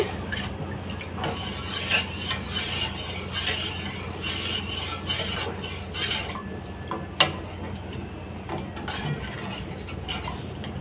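A spoon scrapes and clinks around a steel pan as ragi malt cooks on a gas stove, producing a steady rubbing swirl with occasional metallic taps and one sharper knock.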